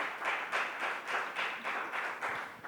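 A church congregation applauds during a Pentecost morning service, a dense, rhythmic wash of many hands clapping in regular pulses, moderately loud with no voices over it.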